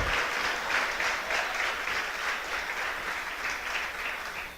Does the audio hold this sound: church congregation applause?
yes